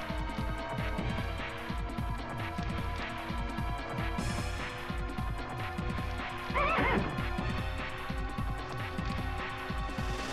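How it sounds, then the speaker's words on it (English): Horse whinnies and hoofbeats from The Legend of Dragoon, a steady clip-clop rhythm running throughout over game music, with a louder neigh rising near the middle. "Yes, everybody mount the horse."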